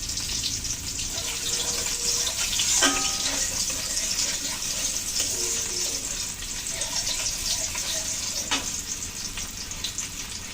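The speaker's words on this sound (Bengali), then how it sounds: "ফোড়নটা ভালো করে ভেজে নিলাম।" Whole spices with chui jhal (kath morich) frying in hot oil for a tempering before cabbage ghonto, a dense, loud steady sizzle with a few scraping stirs, no voices.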